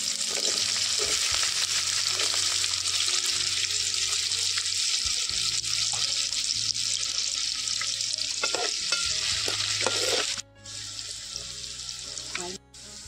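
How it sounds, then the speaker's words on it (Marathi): Onion frying in plenty of oil for tempering a stuffed brinjal dish, a loud, dense sizzle with stirring clicks, which drops off sharply near the end as the heat or pan is moved. "मी आता ह्याच्यात फोडणीसाठी कांदो टाकते।"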